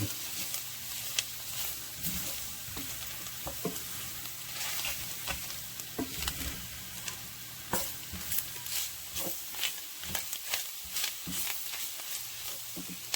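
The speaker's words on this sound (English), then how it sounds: "Now we're just gonna stir it together. We're gonna cook that raw flour taste out." Flour is stirred into gravy in a hot pan for smothered cube steak. A soft, steady sizzle runs under repeated scraping strokes, heard close with no talking.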